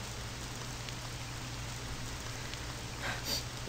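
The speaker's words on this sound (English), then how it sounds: "It is raining cats and dogs." Heavy rain in the eerie mansion video game Bella's Mansion, a steady, even hiss of downpour with a low hum beneath, continuous and moderately quiet throughout.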